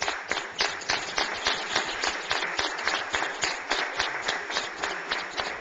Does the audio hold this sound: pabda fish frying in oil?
no